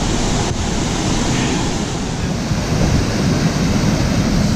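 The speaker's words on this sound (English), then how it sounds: "So now we've got the water coming over now." Water pours over a canal lock gate into the pound below, a steady broadband rush, close and loud, with wind buffeting the microphone.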